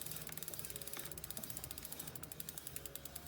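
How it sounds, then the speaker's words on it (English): Bicycle brake barrel adjuster being turned, a faint, rapid series of tiny ratcheting clicks in a steady rhythm, close but quiet over a background hiss. "I can loosen the barrel adjuster and then screw in the barrel adjuster."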